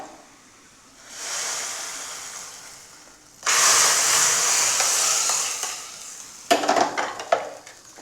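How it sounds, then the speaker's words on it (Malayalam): Hot fried onion tempering is poured into an anchovy coconut curry, a soft hiss that swells into a loud steady sizzle, followed by a few clattering stirs of a utensil against the pan. "ഇനി നമ്മൾക്ക് ഉള്ളി വറവിട്ടത് കറിയിലേക്ക് ഒഴിച്ചു കൊടുക്കാം."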